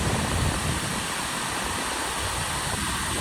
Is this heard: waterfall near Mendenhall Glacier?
yes